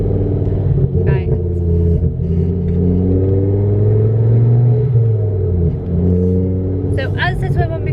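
Heavily modified Ford Focus ST driving on the road, its loud engine droning steadily throughout with slight shifts in pitch and a brief clatter near the end.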